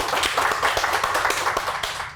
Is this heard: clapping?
yes